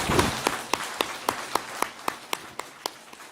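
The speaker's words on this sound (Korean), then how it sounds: "같이 박수하겠습니다" A church congregation claps in a steady, even rhythm during a worship service, about a dozen crisp beats in a row, fairly soft and evenly spaced, with light room reverberation.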